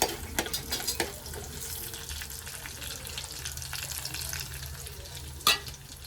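Ginger and garlic sautéing in hot oil in a home kitchen: a steady low sizzle with occasional stirring scrapes and a sharp clatter near the end, no one talking.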